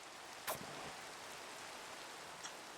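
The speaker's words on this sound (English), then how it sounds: "It's raining, really." Rain in the Minecraft Aether II mod falls as a soft, steady hiss throughout, with a couple of brief sharper ticks and no talk.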